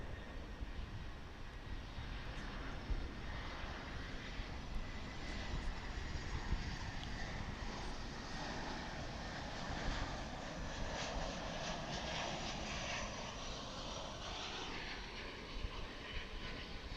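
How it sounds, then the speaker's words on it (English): A Boeing 787 Dreamliner landing at DFW airport gives a faint, distant, steady engine rumble that runs through the whole stretch with no voices. "American Flight 60 coming in from Narita in Japan. That'll be a 787 Dreamliner."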